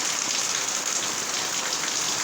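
Heavy rain pours in Iligan City at midday in August, a dense, steady hiss of drops drumming on surfaces close by, with no voices.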